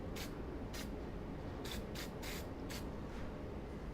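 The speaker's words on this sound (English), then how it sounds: "And then once again, a little bit of spray on top of it and underneath it," A spray paint can hisses onto painted tree foliage, with several short bursts of spray over a steady low background rumble, close by.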